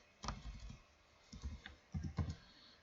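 Keys on a computer keyboard are tapped in three quick bursts of soft clicks, close and quiet, typing into a text field of a WECON HMI panel program.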